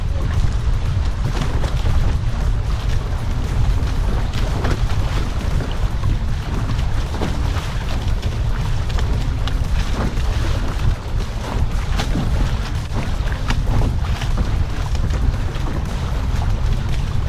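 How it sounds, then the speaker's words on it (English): Steady, loud wind roar off the ocean buffets the microphone throughout while sailing, with a rushing water-like wash underneath and no voices. "we're getting a lot of the wind directly from the ocean"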